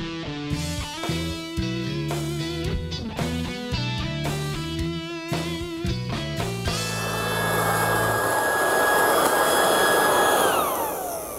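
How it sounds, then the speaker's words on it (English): A leaf vacuum with a shredding sack sucks up and chops autumn leaves, its loud, steady motor roar and high whine rising partway through after a stretch of music. "With this vacuum sack, I can literally vacuum up the leaves, chew them into very fine particles"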